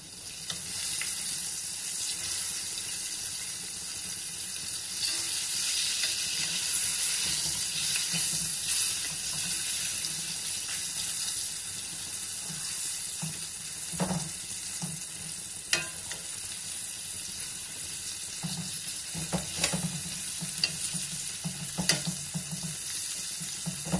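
Pork chop frying slowly in a pan over low heat, a steady broadband sizzle throughout with occasional louder pops and crackles, plus faint clinks and movement; no voices.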